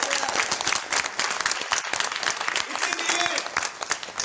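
Dense applause from an audience at a business meeting, steady rapid clapping throughout with a voice speaking over it.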